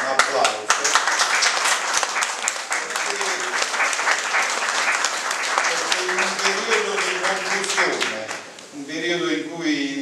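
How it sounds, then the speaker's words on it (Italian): An audience in a hall applauds President Giorgio Napolitano, with loud, sustained, crowded clapping with distinct sharp claps up close, easing off near the end as a voice begins speaking. "il presidente Giorgio Napolitano, al quale vorrei che noi facessimo un applauso."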